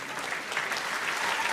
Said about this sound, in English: Round of applause for Psychic Danielle.